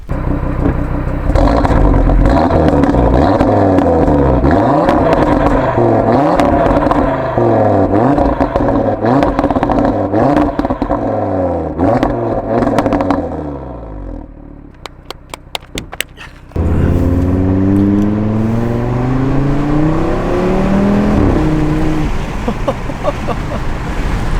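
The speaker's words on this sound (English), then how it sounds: "So if you get the exhaust nice and hot, the pops are just mwah." Audi RS3 with a Stage 1 tune revving loudly up close outside the car, the exhaust rising and falling through repeated revs, then a short lull with sharp crackling pops before a long climbing rev.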